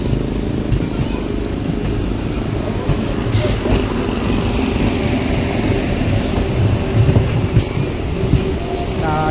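Train pulling into a station platform in Chandannagar during the Jagadhatri Puja festival, heard as a loud, continuous rolling rumble with a brief high squeal partway through.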